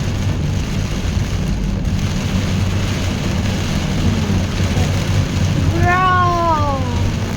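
Heavy rain pours down in a dense, steady roar as wind gusts through a storm, loud and continuous, with a brief rising and falling tonal whine near the end.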